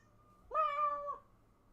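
A cat lets out a single clear meow of about half a second, close and fairly loud against a quiet room, with no talking.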